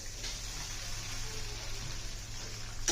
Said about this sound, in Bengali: মশলাটাকে কষানোর জন্য পানি দিয়ে দিলাম।